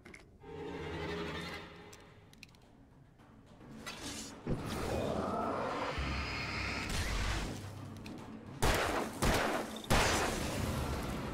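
Hunting rifle gunfire in the video game Alan Wake, with several loud, sharp shots and booming reports. The shots are spread across the stretch, and game effects and whooshing ambience run between them.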